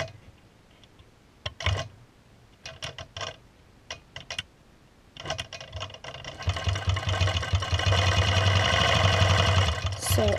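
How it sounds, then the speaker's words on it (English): A longarm quilting machine in regulate mode at 12 stitches per inch stitches a straight line across a quilt, a few short mechanical bursts giving way to a steady, loud motor whir and rapid ticking that runs close by to the end. "I just want to maybe go up and stitch a straight line across"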